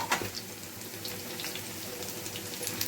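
Onions frying in oil with dried chillies, cooked for a pumpkin chapathi thuvaiyal, give a steady, faint sizzle with no talking.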